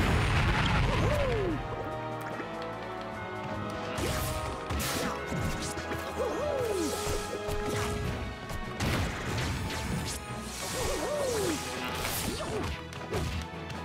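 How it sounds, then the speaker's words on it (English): Smash attacks landing on enemies in Super Smash Bros Brawl on the Wii, a busy run of sharp crashes, whacks and swooshes over game music, with bursts clustered around several heavy hits. "smash attacks work great on these"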